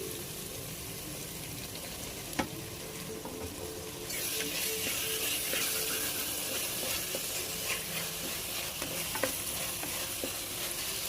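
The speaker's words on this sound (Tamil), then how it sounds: "நம்ம போட்டிருக்கிற தக்காளி இஞ்சி பூண்டு வெங்காயத்தோட நல்லா கரையிற அளவுக்கு நல்லா ஒரு அஞ்சு நிமிஷம் நல்லா வதக்கலாம்" Chopped tomato, onion and ginger-garlic sauté in a pan with curry leaves for a chicken fry, a steady close sizzle that grows fuller partway through, with occasional scrape and clack of a stirring spoon.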